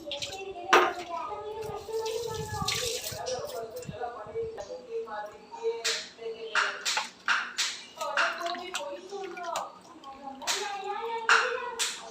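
Raw chicken washed in a pot of water, heard as splashing, sloshing and clattering pot sounds with uneven, busy handling throughout, while someone talks over it.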